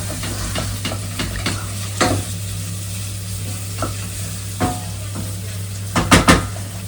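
Cumin seeds sizzle in hot oil as a tempering for poha, under steady close frying noise. Scattered clicks and scrapes of stirring in the pan are heard, with a cluster of louder knocks near the end.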